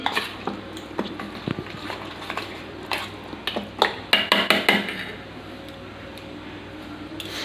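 Spice paste with oil mixed for a steamed egg dish, a utensil clinking and scraping against a bowl in a run of light, close taps that cluster into quicker strokes midway, then quiet.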